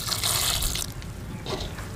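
Water is poured into a bowl of gram flour batter seasoned with crushed red chilli and dry coriander, a brief splashing pour that fades out, followed by a softer second trickle.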